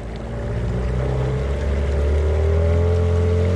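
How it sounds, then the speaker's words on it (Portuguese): An outboard motor on a kayak accelerating, a loud, close engine drone whose pitch climbs steadily as it revs up, with water noise underneath. "Pessoal, esse motor é muito potente."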